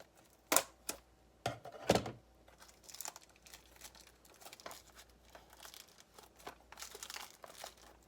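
A wellness order is opened by hand, with sharp crinkles and tears of packaging plastic and paper followed by softer rustling and light handling clicks, close and fairly quiet.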